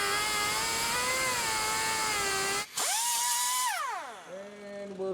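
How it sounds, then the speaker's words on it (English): A cutoff wheel grinds through the frame of a 1963-1972 Chevy C10 longbed truck, a loud, high, sustained whine that briefly drops, resumes, then winds down in pitch as the tool spins out, with no talking. "We're going to start cutting. I'm going to use a cutoff wheel."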